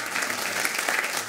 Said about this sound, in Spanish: ¿Quieres darle un aplauso al Espíritu Santo?